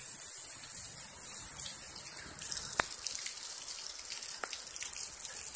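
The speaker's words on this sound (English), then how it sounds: "It's raining. It's still raining." Steady rain falling outdoors as a soft continuous hiss, with a few sharper drip or drop ticks standing out now and then, faint and without any talk.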